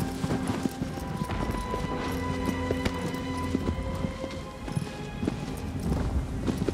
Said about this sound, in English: Either, like, a donkey or a horse.